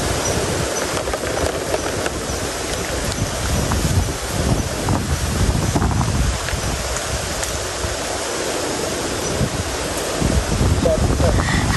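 Strong wind gusts buffet the microphone outdoors near the sea, a steady broadband rush with surging moments throughout; people talk faintly underneath.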